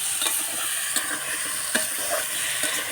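Pumpkin and two potatoes sautéing in a pan throw off a constant close sizzle, with irregular utensil clicks and scrapes as the pieces are stirred, no one speaking.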